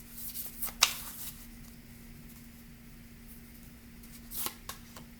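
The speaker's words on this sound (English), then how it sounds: "this popped out when I was shuffling" Tarot cards being shuffled by hand in two short riffling bursts, crisp and close, separated by a stretch of quiet room hum, with no talk.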